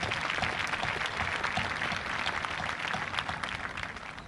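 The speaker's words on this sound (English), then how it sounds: "Please give them all a round of applause." Steady, dense applause from a large audience at a 2020 high school graduation ceremony in Waynesville, continuous and fairly loud throughout with no talking over it.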